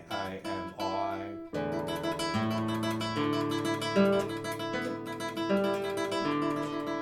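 Rapid, even flamenco four-finger tremolo on a nylon-string guitar, notes rippling continuously over a moving bass line, clear and close with no talking.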